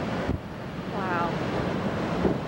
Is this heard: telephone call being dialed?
no